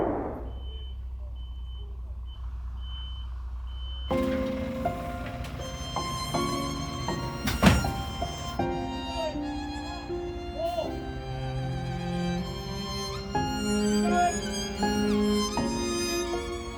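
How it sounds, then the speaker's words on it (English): A lorry pulling out of a haulage yard at night, its engine rumbling beneath repeated reversing beeps and a clatter partway through, with a muffled voice briefly heard. "Another one of our lorries is leaving."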